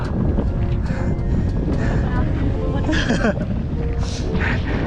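Strong wind roars and buffets continuously on the Taal volcano trail, loud and close, with voices shouting faintly beneath the constant rumble.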